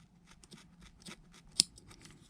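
Scissors snip crochet yarn in a quiet, close sequence of small rhythmic clicks, one sharper cut standing out near the middle, with no talking.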